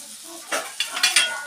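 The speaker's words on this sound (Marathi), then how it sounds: "तव्यामध्ये कांदा परततो" Onion being sautéed in a tava, a low sizzle punctuated by four or five quick metallic scrapes and stirring strokes, close and clear with no one speaking.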